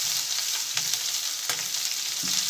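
Curry leaves and ginger-garlic paste sizzling in hot oil, a bright steady crackle with occasional louder pops and stirring scrapes, close and continuous with no talk.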